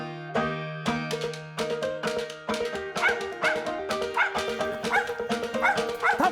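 A dog barks rapidly and repeatedly at a squirrel up a tree, excited yips and bow-wows tumbling over one another, loud and close with no pauses.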